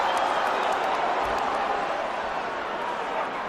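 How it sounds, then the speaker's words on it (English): A UFC arena crowd reacting during Chuck Liddell versus Wanderlei Silva at UFC 79, a dense continuous roar of many voices that holds steady and loud throughout. "The crowd reacted,"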